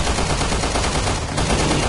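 Dense, continuous bursts of rapid gunfire fill the whole stretch, loud and unbroken, automatic weapons firing in the game Resident Evil Revelations 2.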